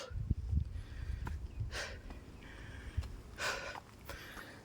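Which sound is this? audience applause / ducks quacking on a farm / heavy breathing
heavy breathing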